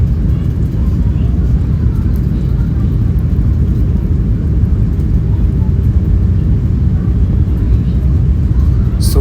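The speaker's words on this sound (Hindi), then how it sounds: "सोचो गाइस, कितना तेज़ दौड़ता है प्लेन" An AIX passenger airplane accelerates down the runway on takeoff, a steady, loud, dense low rumble with broadband roar that holds throughout without letting up.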